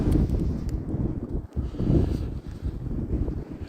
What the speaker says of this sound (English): this wind was not made for RC flying